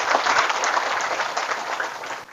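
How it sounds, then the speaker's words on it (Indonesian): A crowd at a religious talk applauds loudly and steadily, many hands clapping close together in a dense burst that cuts off abruptly. "Tepuk tangan dulu."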